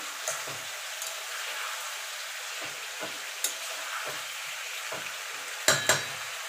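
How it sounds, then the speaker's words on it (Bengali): Eggplant is stirred and fried with mixed vegetables for a vegetarian curry, a soft continuous sizzle punctuated by repeated scraping strokes and a few sharp clinks of a spoon against the pan, close and without speech. "এবার বেগুনটা দিয়ে দেবো। বেগুনটা দিয়ে নাড়াচাড়া করে দেবো।"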